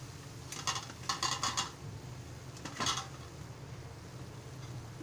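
Drumstick vegetable curry with fresh coconut being stirred in a pan, a few scraping clinks of a spoon against metal in short bursts, fairly quiet with no talk.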